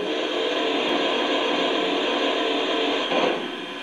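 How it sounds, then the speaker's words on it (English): A Lionel 746 J Class model steam locomotive's water injector sound effect: a steady, loud hiss of rushing steam and water holds evenly for a few seconds, with a brief surge near the end. "Here's the water injector."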